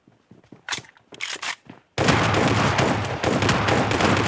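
Shotgun gunfire during a red-versus-blue team match in a video game: a few sparse clicks and knocks, then a sudden dense barrage of loud overlapping blasts that keeps going to the end, with no talk.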